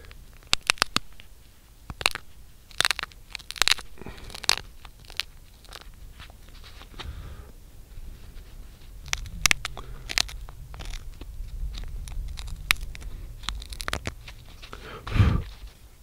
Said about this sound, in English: Each time I take a flake off, I'm widening that notch, crunching it out